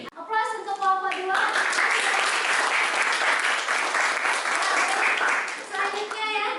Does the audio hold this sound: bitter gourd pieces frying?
no